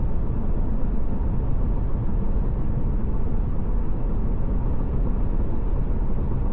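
Steady low rumble of wind and road noise inside a GMC Sierra pickup with a 6.2L V8 and 3.73 gearing, cruising at 63 mph under 1,500 rpm, continuous and even with no talk.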